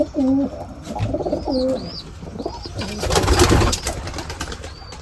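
Pigeons kept in a cage coo repeatedly close by, with soft, rising and falling calls. Scraping and rustling noises fill the middle.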